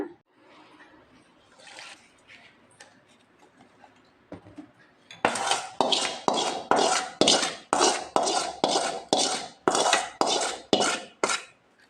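A spoon stirs lemon rice in a metal pot with a series of regular, loud scraping clinks; quieter, scattered handling clatter comes first.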